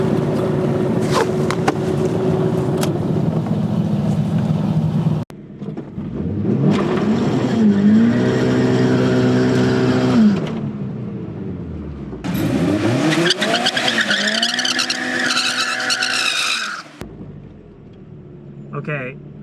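A 500 hp Mazda Miata launches down a drag strip on 5 psi of boost, its engine revving hard in rising bursts through gear changes with tire noise, loud and close, while people talk over parts of it.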